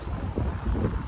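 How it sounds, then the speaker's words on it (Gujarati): Wind gusts outdoors on an overcast day in Canada, a steady rough low rumble buffeting the microphone throughout, close and fairly loud, with no talking. "થોડોક પવન આજે આવી ગયો છે."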